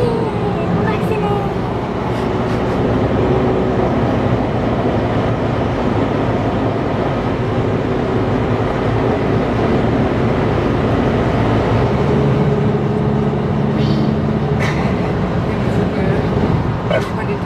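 A 2018 Peugeot 308 accelerates on the road, a steady engine drone blended with road and wind noise inside the cabin, loud and continuous throughout with a slight deepening near the end.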